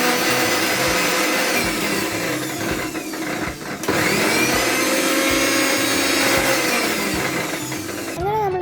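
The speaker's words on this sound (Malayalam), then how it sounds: "നമുക്കിത് പെട്ടെന്നൊന്ന് ക്രഷ് ചെയ്തിട്ട് വരാം." A mixer grinder crushes shallots, green chilies, curry leaves and coriander, running steadily and loud throughout with a brief dip near the middle before resuming.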